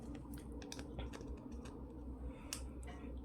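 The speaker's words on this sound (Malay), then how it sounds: "Jom kita gunting dahulu." Scissors snip open a BoBoiBoy Bold Impact card pack in quick, faint, close clicking cuts, with no voices.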